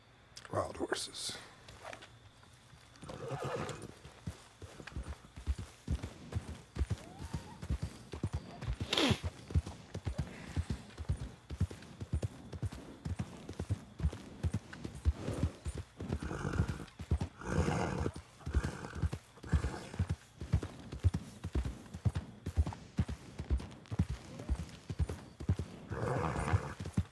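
Wild horses in a ranch roleplay video game trotting with dense, rhythmic hoofbeats close at hand, broken by several loud neighs and whinnies, the trotting building and continuing to the end.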